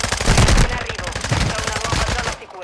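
Rapid bursts of automatic gunfire in Call of Duty: Modern Warfare II, loud and close, with sharp repeated shots running nearly the whole time before cutting off at the end.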